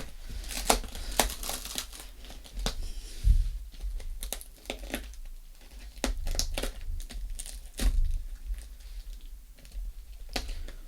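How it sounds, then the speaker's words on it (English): Cardboard and plastic wrapping of an AliExpress mystery box being ripped open by hand, a close run of crinkling, tearing and sharp tapping bursts with brief pauses between, no voices. "I'm just ripping this thing apart"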